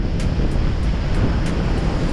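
Strong wind gusts roar around a sailboat in a squall blowing about 28 knots, a loud continuous buffeting rush with regular bursts of hiss, no voices.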